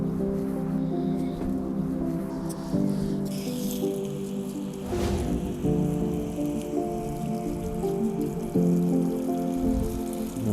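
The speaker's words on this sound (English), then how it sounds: "so we get quite a lot of water draining out of it" Water drains and drips from a freshly watered, newly repotted boxwood bonsai pot, a close trickle with scattered drips and soft squishing through a steady low background hum.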